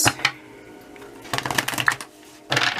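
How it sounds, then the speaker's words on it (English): Oracle cards being shuffled during a reading, a close, soft riffling and flapping in several bursts with short pauses between them, and no voices. "But let me do one more shuffle, y'all."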